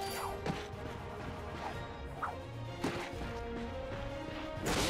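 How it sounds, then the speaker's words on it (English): Several sharp wooden smashes and thwacks of crates land at irregular intervals over a steady busy backdrop of game music and effects, each a brief crunchy impact, in the video game Ratchet and Clank (2016 remake), on Veldin. "Look at him smashing crates."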